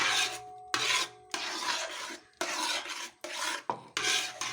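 A wooden-sounding scrape works through thick jackfruit halva in a pan, in a series of rough rasping strokes broken by brief gaps, near and soft, with no one speaking.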